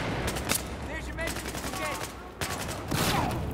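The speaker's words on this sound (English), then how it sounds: "I'm under heavy fire" Heavy gunfire rattles through a Battlefield 4 match, dense rapid shots in bursts, loud and close, with a voice talking over parts of it.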